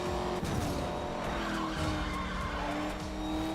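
A V8 car engine roars through tunnels in the racing game Need For Speed Most Wanted 2012, a dense, continuous loud drone with tire squeal and skidding layered on top, steady throughout with no voices.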